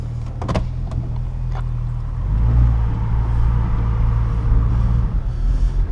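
Lifted two-door Jeep Cherokee XJ Sport on a road test, heard from inside the cabin as a steady low engine and road rumble that swells slightly partway through, with a few brief clicks near the start.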